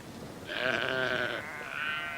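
A sheep gives two drawn-out bleats, close and clear against a quiet background.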